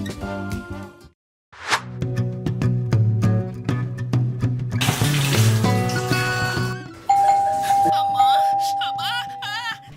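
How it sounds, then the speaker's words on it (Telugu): A melodic electronic doorbell chime plays a ringing tune of several bright tones, loud and close, with a short pause near the start. "సిరి, కుక్క ఆకలికి కాలింగ్ బెల్ కొట్టి మరీ మొరుగుతున్నట్టుంది"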